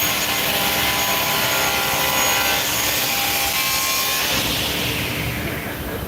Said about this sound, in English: we're going to go up and over the top, reposition, so we can machine through or saw through the other half